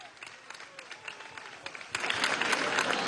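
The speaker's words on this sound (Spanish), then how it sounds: "Recibámoslas con un fuerte aplauso." At a school event, an audience claps, starting with scattered, lighter clapping that swells into fuller, louder applause for the last second or so.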